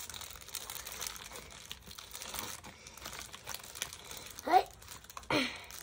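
Plastic packaging around a mammoth toy crinkles and rustles quietly as it is opened, with two sharper crackling bursts near the end and a brief spoken word.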